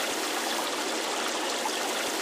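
Water streams continuously in the Kick the Buddy video game, a loud, even hiss of flowing water that fills the whole short moment without voices.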